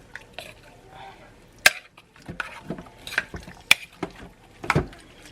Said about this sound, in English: I'm just going to give this a little mix